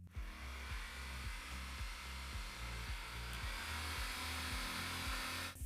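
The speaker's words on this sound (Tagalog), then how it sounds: "Umandar ang heat gun pero mukhang mas mahina ito kaysa sa 2 kW." A 2 kW heat gun running on a backup power supply, a faint steady electric whir with a rhythmic low pulsing throughout, no talk.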